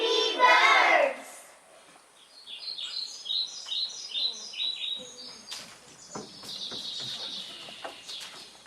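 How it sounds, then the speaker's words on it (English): Baby birds in a nest high in a tree chirp in a quick run of thin, repeated peeps that rise and fall, fairly close. A voice speaks briefly just before the chirping, and a few fainter calls trail off afterward. "Mr. Ramon, did you know that in this tree we have our nest and baby birds?"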